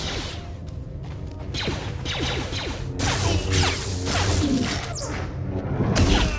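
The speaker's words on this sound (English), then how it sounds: "Notice also that you have an ability to deflect some of those blaster bolts" Lightsaber swings and deflected blaster bolts in Star Wars: The Old Republic, a continuous run of whooshing swishes, sharp cracks and impacts layered over busy game combat noise, fairly loud throughout.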